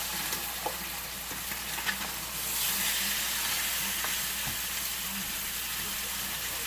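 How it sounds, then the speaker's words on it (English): Pork chops sizzle in a hot frying pan, a steady close crackle and hiss that swells louder partway through after being flipped, with light utensil clicks and no talking. "on my pork chops, I'm just going to give them a flip."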